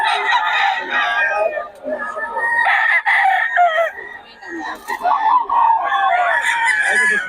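Several roosters crow over one another while chickens clucking nearby at a poultry market in Bocaue, a busy, overlapping chorus of fowl calls with no pauses.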